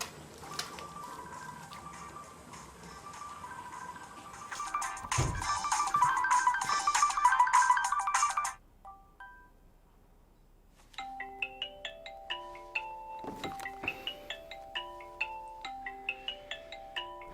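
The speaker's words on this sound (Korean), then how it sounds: "엄마의 전화는 망설이더니 병원 원장님 전화는 받는 병훈." After a stretch of muffled rustling noise, a phone ringtone plays a looping melodic chime of quick electronic notes, clear and moderately close.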